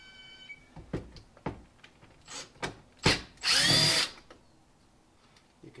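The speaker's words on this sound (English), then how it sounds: "Get your screwdriver." A power screwdriver drives screws during a JBL speaker install in a 2023 Toyota RAV4 TRD Pro, giving several short, close whirring bursts followed by one longer, louder spin.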